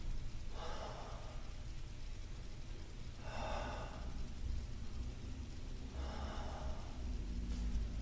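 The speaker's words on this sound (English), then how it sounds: "3 deep breaths." Deep breathing during a stretching exercise session: three slow, audible breaths spaced a few seconds apart over a steady low background hum.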